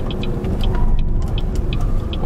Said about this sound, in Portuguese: dá uma aceleradinha aqui para sentir um pouco do carro